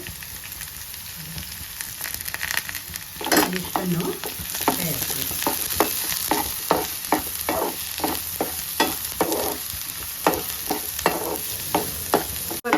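Curry leaves and onion tempering in hot oil for a Konkani-style drumstick stir-fry, a bright crackling sizzle with a burst as they go in, then repeated scraping stirs at a steady pace; a voice speaks briefly.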